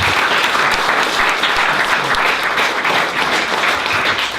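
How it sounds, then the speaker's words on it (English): Loud, dense audience applause at a Tohoku 2015 community event with Los Gatos High and Minamisanriku guests, a steady wash of many hands clapping without letup. "Let's give a big round of applause."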